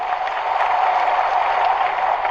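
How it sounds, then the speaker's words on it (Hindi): A crowd at a political rally addressed by a state chief minister claps steadily, a dense, even wash of applause that holds constant and loud throughout. "ताली बजाओ तो मजा आना चाहिए"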